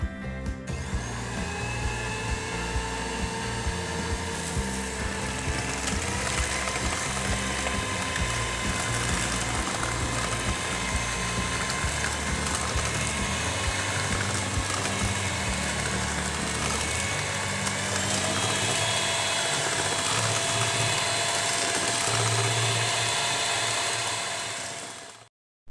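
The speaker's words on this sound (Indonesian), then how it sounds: "sekarang akan saya mixer selama 10 menit, kurang lebih 10 menit dengan kecepatan tinggi sampai adonannya putih berjejak ya" An electric mixer whipping brownie batter at high speed, a steady loud whirring drone that holds throughout before cutting off abruptly at the end.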